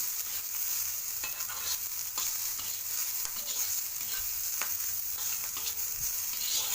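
Peas sauté in a tava, a steady dense sizzle with scattered scraping stirs and clicks of the spoon running through it, close and even, with no voices.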